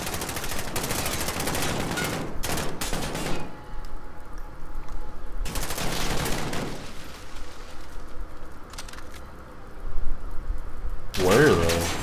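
Rapid bursts of automatic gunfire and single shots in the video game Modern Warfare, loud and crackling in clustered volleys with quieter gaps, under game ambience.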